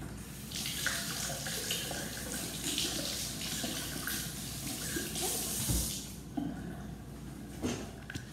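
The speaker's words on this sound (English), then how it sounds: "So you can see me wash the zucchini." Running tap water splashes over a zucchini being washed at a kitchen sink, a steady close rush with small shifts as the vegetable turns under the stream.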